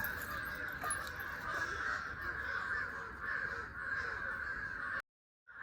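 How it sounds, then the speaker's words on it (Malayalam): Several crows caw continuously in a noisy chorus, harsh repeated calls overlapping for several seconds before cutting off abruptly. "കാക്കകളെല്ലാം ഭയങ്കരമായിട്ട് കരയുന്നു."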